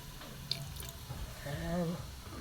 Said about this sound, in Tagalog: Lagyan din natin ng konting patis.